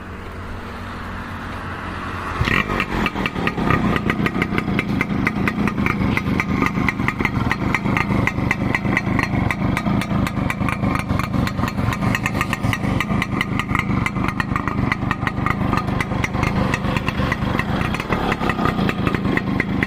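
A vintage Yamaha RX100 two-stroke motorcycle in a workshop fires up after a short quiet lead-in, then settles into a loud, steady, rapid-beat idle that runs without a break.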